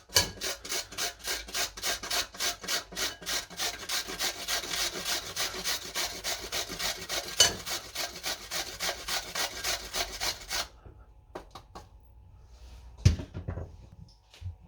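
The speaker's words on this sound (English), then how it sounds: "I got here a grater. I'm gonna take a cucumber," A tiny cucumber is rubbed over the coarse side of a hand grater in quick, rhythmic rasping strokes, close and steady, and then the scraping stops.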